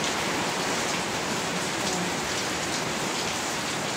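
Steady, heavy rain pours down in a constant hiss and patter, close and enveloping, with no voices.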